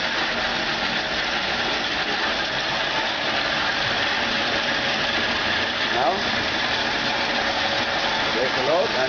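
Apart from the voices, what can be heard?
motor running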